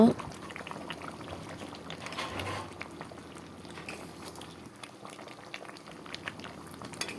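Chicken gravy for a spicy chicken tel jhal bubbling in a pot, a soft continuous simmer with faint popping bubbles, close but quiet, with a voice briefly audible.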